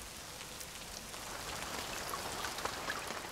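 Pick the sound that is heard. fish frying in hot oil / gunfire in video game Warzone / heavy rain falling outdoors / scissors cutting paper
heavy rain falling outdoors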